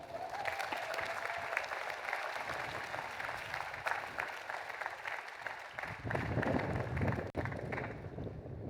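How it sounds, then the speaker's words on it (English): Commencement crowd applause in a large outdoor stadium at a university graduation, a broad continuous wash of distant clapping with some cheering and wind noise, growing fuller toward the end. "So let's give her another round of applause."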